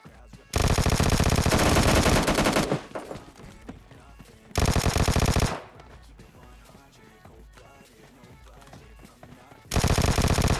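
Vector submachine gun fire in the mobile shooter PUBG Lite, three long sustained bursts of rapid loud automatic shots separated by quieter stretches of game ambience and distant activity.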